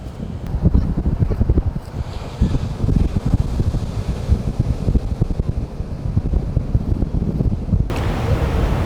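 Strong wind on an Outer Banks beach at Kitty Hawk, North Carolina, loud gusty rumbling against the microphone in uneven bursts, with surf roaring underneath.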